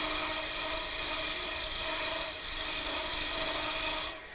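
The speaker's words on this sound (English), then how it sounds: "This is a small skew. You can use this both ways. You can use it like this to cut," A small skew chisel cutting wood on a spinning lathe makes a continuous bright hissing rasp, close and steady, that eases off briefly near the end.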